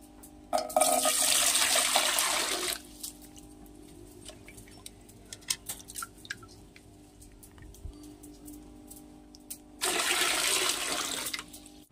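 Dirty water gurgles and rushes as it is drawn out of a home aquarium, in two loud surges with quieter drips and splashes between them.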